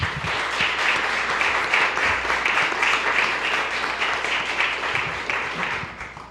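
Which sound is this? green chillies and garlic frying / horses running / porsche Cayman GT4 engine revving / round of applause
round of applause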